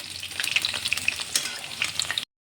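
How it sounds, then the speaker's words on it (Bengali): Whole peeled pointed gourds frying in oil, a steady crackling sizzle with sharp pops and spits close by, running alone before cutting off abruptly. "গোটা গোটা পটল খোসা ছাড়িয়ে এরকম তেলে ভাজছি।"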